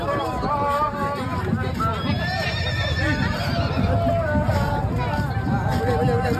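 Horse neighing amid a noisy outdoor parade, with crowd babble and talk throughout and possible hoof clip-clop beneath.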